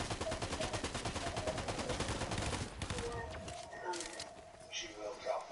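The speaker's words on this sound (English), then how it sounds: "She's shooting at somebody." Rapid gunfire rattles in a video game for the first half, dense repeated shots at moderate distance, then breaks off into sparse sounds while players talk.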